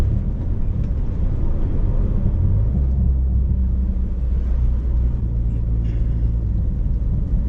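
A turbocharged Honda Accord engine pulling hard in third gear, a loud, steady low rumble heard from inside the car throughout.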